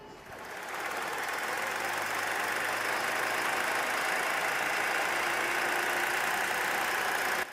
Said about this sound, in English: After being loaded, the tractor truck moved out of the lumber yard and onto small paved roads